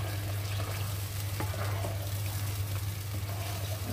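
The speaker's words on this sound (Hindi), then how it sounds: "अब इसे हम 5 मिनट तक भूनेंगे।" Palak paneer mixture sautéing in a pan, a steady broadband sizzle running throughout with a constant low hum beneath and a few faint scrapes of stirring, no voices.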